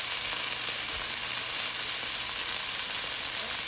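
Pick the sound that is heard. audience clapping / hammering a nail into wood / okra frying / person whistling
okra frying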